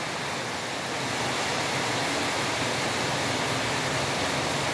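Steady, roaring rush of floodwater, loud and continuous throughout, a strong current surging past close by.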